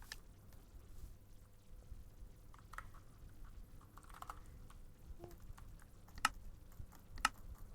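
Keystrokes on a new, small computer keyboard tap steadily but faintly against a low background hum, with a couple of sharper clicks standing out near the end.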